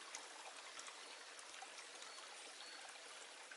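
Woodland stream flowing steadily, a continuous even rush and trickle of water filling the scene at moderate level with no voices.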